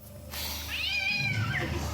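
A cat lets out a single loud, drawn-out meow as a horror movie jump scare from the 1991 killer-doll film Dolly Dearest, rising sharply after a brief quiet moment and sounding close.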